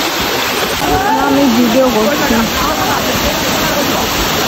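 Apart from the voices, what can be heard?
waterfall at Sreemangal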